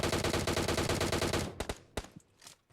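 Gunfire in PUBG Mobile: a rapid, loud automatic burst of even shots for about a second and a half, then a few separate single shots with short gaps between them.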